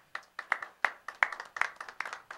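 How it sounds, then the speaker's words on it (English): Sparse clapping for the bass guitarist at a live show by Pookie Hudson and the Spaniels, with a handful of distinct, fairly close hand claps in a loose irregular rhythm rather than a full crowd ovation. "Let's give him a nice round of applause."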